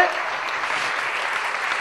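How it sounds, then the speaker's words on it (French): Theatre audience at a European magic festival in Toulouse applauding, a dense steady clapping that fills the whole moment, loud and sustained without a break. "on applaudit bien fort Gwenaël"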